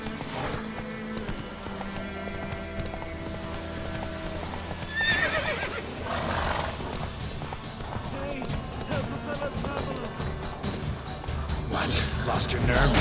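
A horse in The Witcher 3 gallops with rapid, continuous clip-clop hoofbeats and whinnies, mixed with game sounds and music. Speech comes through at times.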